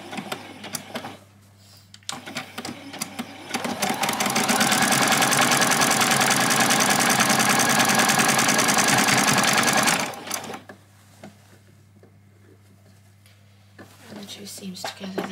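A sewing machine stitches a doll's dress seam, running steadily and loudly for about six seconds before stopping, with quieter handling sounds and brief talk around it.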